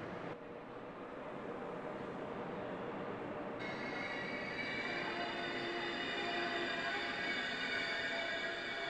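A train in a railway station, a steady loud rumble of rolling rail cars with wheel squeal and metallic tones rising partway through, continuous and close with no talking.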